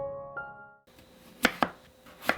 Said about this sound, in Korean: 감자는 조금 큰 사이즈로 깍둑 썰어주세요.